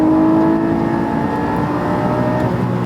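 A Porsche 718 with its stock exhaust, engine held at high revs, a loud, steady, close-up tonal drone with a sustained whirring edge and no talk over it.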